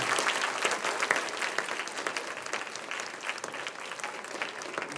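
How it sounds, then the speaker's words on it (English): Warm, continuous applause from an audience at an elementary school spring concert, honouring a strings group; many hands clap evenly throughout, fairly close and full, without speech. "let's give another round of applause for Mrs. Saravalli and her strings, please"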